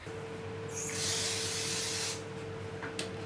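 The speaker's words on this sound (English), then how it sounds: "Some brake clean here. Get the oil out." Brake cleaner sprayed into a Cummins 4BT diesel engine block to flush out oil, a loud steady aerosol hiss lasting about a second and a half over a constant electrical hum, followed by a couple of faint brief spurts.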